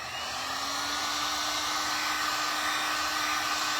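Hair dryer blowing steadily to dry paint on a DIY pumpkin charger craft, a loud continuous whooshing hum held close to the microphone throughout.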